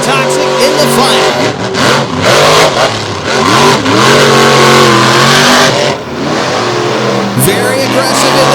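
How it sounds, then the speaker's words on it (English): Monster trucks Wrecking Machine and Toxic race in a Lake Erie arena final. Their engines rev loud and close, rising and falling through repeated bursts as the tires spin, while a commentator talks continuously over the roar. "Snyder just burning up the tires as Olford is checking out Wrecking Machine, headed for the finish line"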